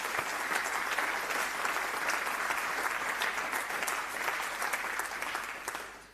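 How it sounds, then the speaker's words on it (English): An audience applauds after a launch event for an investor report, a dense, steady wash of many hands clapping that holds for about six seconds before starting to thin at the very end. "give a round of applause for today's event"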